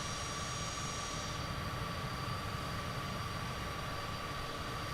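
Aircraft climbing after takeoff from Lucas Field in Kentucky in Microsoft Flight Simulator, a loud steady engine roar and airflow rumble with a constant whine, unbroken and alone.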